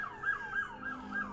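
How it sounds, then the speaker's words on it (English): A wailing emergency siren sweeps up and down repeatedly at moderate distance, with faint traffic rumble underneath. "Some sirens outside."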